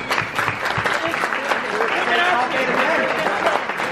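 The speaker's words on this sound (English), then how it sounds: "you guys should all give yourself a round of applause." A room applauds players at an E-League esports event, a continuous loud clapping of a crowd with voices talking and calling out over it.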